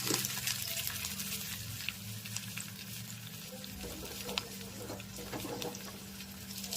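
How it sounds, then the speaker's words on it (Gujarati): Soft, steady sizzling of cumin, cloves, chilli and curry leaves tempering in hot oil for kadhi, with scattered light crackles and pops throughout. "કઢીનો વઘાર સરસ મજાનો ચાલી રહ્યો છે."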